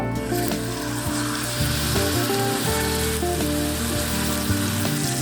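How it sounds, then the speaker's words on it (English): Beef sears in a hot pan with a loud, continuous sizzle and crackle, close up and steady throughout, over a low humming background with no voices. "I'm going to sear the meat each side."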